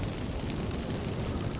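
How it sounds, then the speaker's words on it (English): Magic fireworks set off by incense in The Witcher 3 make a dense, steady roaring burst of crackling noise, loud and close, with no talk over it. "Get ready for some magic fireworks."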